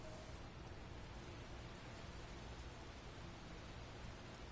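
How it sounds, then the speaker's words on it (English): Steady, soft hiss of rain falling in Lost Judgment, a constant even wash with no other sounds. "Oh, it's raining."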